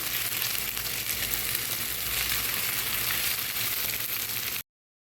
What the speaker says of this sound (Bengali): এখন ডিমটা আমি ভালো করে পেঁয়াজের সাথে একটু ভেজে নিব